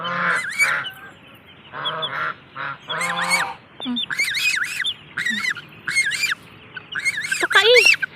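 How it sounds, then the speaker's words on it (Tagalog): A young goose on a farm honks and squawks close up in repeated, uneven bursts of harsh, nasal calls, with brief pauses between them. "Ito yung baby ng gansa."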